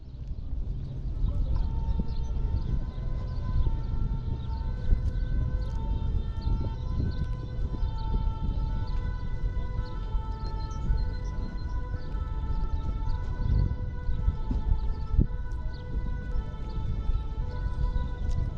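A siren wails steadily outdoors, a sustained tonal drone that sits over street background noise throughout, moderately loud and continuous.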